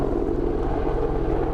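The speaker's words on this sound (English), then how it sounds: "That's the helicopter to fish from" A helicopter flying overhead near a fishing spot, a steady low rotor drone that stays loud and constant without fading.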